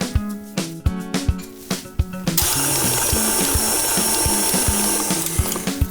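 A food processor blade whirs through a Diwali sweet mixture of soft butter, sugar, milk powder and dessert cream. Music plays first, then a loud, steady motor hum takes over for the rest, with the music continuing beneath it.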